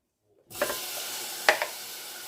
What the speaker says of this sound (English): Now that is hot, I'll just put my dry rub over there. I will add in the diced tomatoes